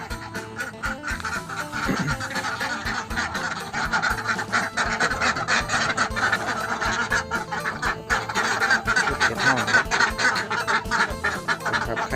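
A flock of egg-laying ducks quacks continuously nearby in the morning, many overlapping calls forming a busy, noisy chorus.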